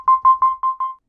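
Five quick synthesized bell-like chirps, bright and evenly spaced, ringing alone in silence and fading away after the last.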